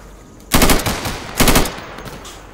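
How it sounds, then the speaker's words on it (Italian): Two loud, close bursts of rapid automatic gunfire in the video game Insurgency, each lasting under a second and separated by a short gap, with a faint tail after each. "sparano"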